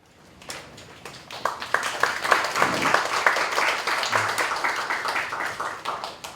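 A crowd at a theology study seminar applauds steadily, the clapping swelling after a quiet start and holding at a lively level to the end.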